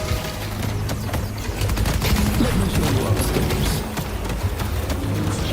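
Turret gunfire aboard a ship in a video game, a dense crackling barrage of rapid shots running continuously and fairly loud, with scattered sharper cracks over a steady rumbling bed.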